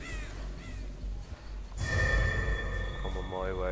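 Crows caw in a multiplayer video game, a few harsh calls rising over background game noise while players talk over voice chat.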